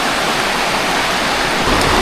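Broad, steady rushing of river water at the Jerot Dusun campsite, a continuous close wash of flowing current with no pauses or voices.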